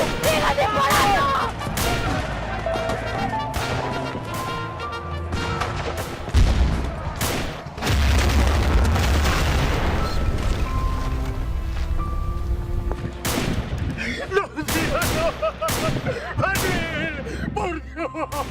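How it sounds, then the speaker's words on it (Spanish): A battle scene in a Spanish-language drama is full of dense gunfire. Rapid volleys and sharp single shots crack loudly throughout, with deep booms partway through and shouting voices mixed in. "¡Sigan disparando!"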